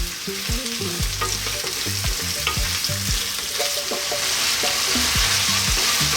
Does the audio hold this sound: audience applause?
no